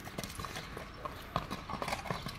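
Hooves of a purebred Kyrgyz horse clip-clop in a steady rhythm, faint and a little distant against soft background noise.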